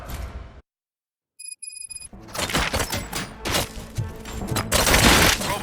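Gunfire rattles in RoboCop: Rogue City, a dense run of sharp shots and impacts that follows a brief silence and a short electronic beeping tone, growing louder toward the end.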